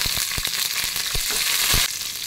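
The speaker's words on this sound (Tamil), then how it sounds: "நல்லா ப்ரௌன் கலராக மாறின பிறகு ரெண்டு பச்சை மிளகாய் போடுறேன்." Two green chillies sizzle and fry in hot oil, a steady bright crackle close up with a few sharper stirring taps, heard alone.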